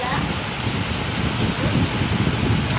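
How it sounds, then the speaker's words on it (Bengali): Heavy rain pours down outdoors, with thunder around, as a steady close hiss of rainfall that fills the whole stretch. "অনেক জোরে এখন বৃষ্টি আসছে"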